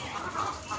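Chickens cluck on a poultry farm in Ghana, a brief, close, steady murmur of overlapping hen calls with no talk.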